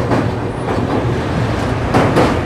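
The Dhule–Mumbai Express rolls along the rails near the junction with the Central Railway main line, a loud, steady broadband rumble with faint clattering bursts, heard from on board.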